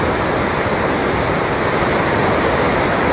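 Kiutaköngäs rapids roar in a loud, unbroken rush of whitewater, a dense steady wash with no speech.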